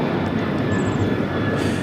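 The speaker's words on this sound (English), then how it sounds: "This is American Airlines 1899 taking off to Indianapolis on the 737-800." An American Airlines Boeing 737-800 takes off at Los Angeles LAX, bound for Indianapolis: a steady, loud broadband jet engine roar holding level throughout, with no talk over it.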